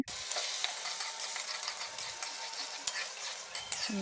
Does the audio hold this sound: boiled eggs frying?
yes